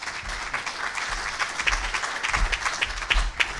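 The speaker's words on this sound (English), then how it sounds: "So big round of applause for Stuart." Audience applauding for Stuart at a sales masterclass update, a steady patter of clapping from a modest group that swells slightly toward the end, with a few louder individual claps standing out.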